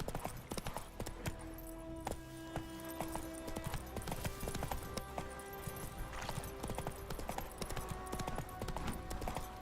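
Geralt's horse Roach gallops with steady, rhythmic hoofbeats in The Witcher 3 next-gen update, the clip-clop running continuously over game music and ambience, with a brief whinny.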